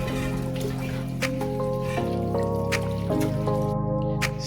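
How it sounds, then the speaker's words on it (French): Running water washing used cooking utensils, with a continuous close stream and splashing, dripping and squishing as items are rinsed, plus faint clinks of dishes. "je lave donc tout ce que j'ai utilisé très rapidement pour libérer également l'espace"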